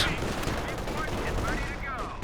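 Dense, continuous battle noise from a Company of Heroes 2 match, with sustained machine gun fire and other combat sounds layered into a loud, crackling wash with no clear pauses.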